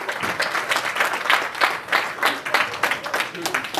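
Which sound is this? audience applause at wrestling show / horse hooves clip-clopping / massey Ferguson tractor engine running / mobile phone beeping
audience applause at wrestling show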